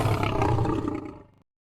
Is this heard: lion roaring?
yes